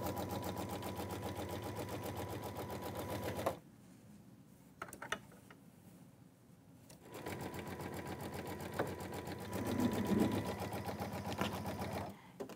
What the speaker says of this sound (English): the next step will be to stitch a placement outline for where to place my background fabric